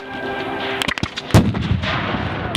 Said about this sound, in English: Taking enfilade fire from the right flank.